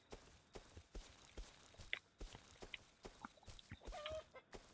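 Chickens in the survival game Rust cluck in short bursts over a steady run of footsteps, the calls fairly faint and scattered across the scene with no talking.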